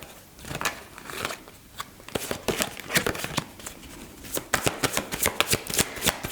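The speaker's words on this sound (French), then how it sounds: "on va tirer nos cartes d'abord" Tarot cards being shuffled before a reading, a close, steady run of crisp riffling snaps and flutters that builds into denser bursts toward the end, with no voices.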